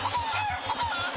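A rooster clucks in a video game, with quick repeated clucks over a rhythmic low electronic pulse from the game's soundtrack, heard close and clear.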